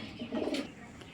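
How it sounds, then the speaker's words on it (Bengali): A pair of racing pigeons gives a short, soft, low coo that swells briefly near the middle of the moment and settles again, close by and fairly quiet. "তো চলুন কবুতর দুইটা আমরা বাইরে নিয়ে দেখাই"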